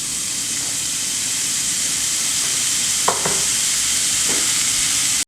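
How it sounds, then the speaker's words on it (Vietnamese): Chopped bacon hits a hot pan and sizzles loudly and steadily, with a few brief clinks of utensils partway through. "Khi đổ phải có tiếng xèo xèo như vậy mới chứng tỏ là chảo đủ nóng nha các bạn."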